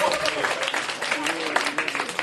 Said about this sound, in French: Non mais applaudissez pour mes amis.